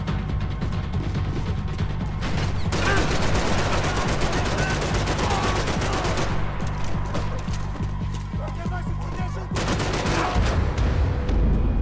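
Sustained gunfire from the video game Max Payne 3, with dense bursts of automatic weapon fire and rapid overlapping shots running loud and continuous throughout, no voices heard.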